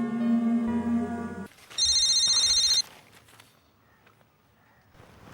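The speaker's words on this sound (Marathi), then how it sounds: "अरे पलाशचा फोन" Telephone ringing with a looping electronic ringtone melody, loud and close, then a brief higher beeping tone before it stops and the room goes quiet.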